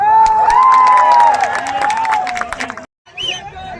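A crowd claps and cheers loudly for a man at a Bidhan Nagar festival meetup, the dense noise holding for nearly three seconds before a brief gap and a quieter burst of noise.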